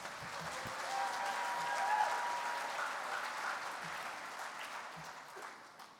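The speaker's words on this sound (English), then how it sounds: "Join me in one final round of applause for all of our 2017 scholarship winners." A large audience applauds steadily at a convention session in a big hall, a dense wash of clapping that swells slightly and then gradually fades, heard from a distance.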